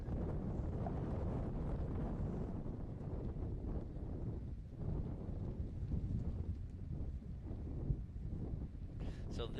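Steady, heavy wind buffets the microphone at the 2024 Warn Racing Nationals Ultra4 USA off-road race, a constant low roar lasting the whole stretch with no voices.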